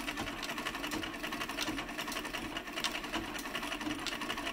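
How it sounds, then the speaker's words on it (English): An 1889 treadle sewing machine winds a bobbin through a heart-shaped gear, giving a steady, continuous mechanical whir with light rapid clicking throughout, close and even, with no talk. "I got the old thing going, and it is winding a bobbin right now."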